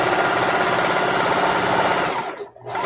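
A sewing machine runs close and loud as it sews the edges of a pillowcase, a continuous rapid mechanical chatter that cuts off abruptly near the end.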